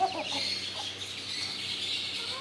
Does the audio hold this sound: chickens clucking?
yes